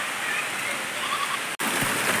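Heavy rain pours down in a steady, dense hiss that fills the space, broken by one brief dropout before the downpour carries on just as strongly.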